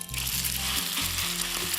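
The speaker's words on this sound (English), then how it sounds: "Okay, I like to press it down a little bit. Hear that sizzle." Pork belly sizzling loudly and steadily in a hot pan as it is pressed down, close up, with a low droning tone underneath.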